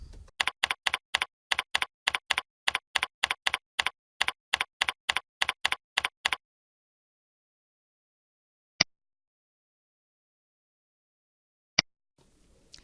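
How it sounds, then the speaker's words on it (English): Close, crisp clicking of computer keyboard keys as a progress note is typed: a rapid, even run of keystrokes for about six seconds, then silence broken by two single isolated key taps. "Then type your progress note in the body of your document."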